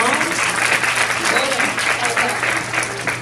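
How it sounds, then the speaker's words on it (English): Conference audience applauding themselves, steady dense clapping throughout at a fairly loud level, with a low hum underneath and possible murmured voices mixed in. "give yourselves a round of applause"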